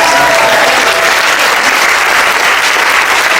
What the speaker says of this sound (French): Applaudissez le Seigneur, frère